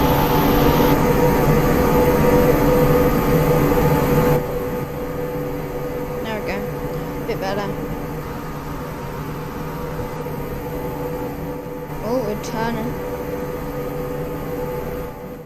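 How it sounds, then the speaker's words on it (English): An airplane engine in the Roblox video game drones loud and steady at first, then drops to a lower, constant hum as a voice talks over it. "There's the airplane. It's quite loud."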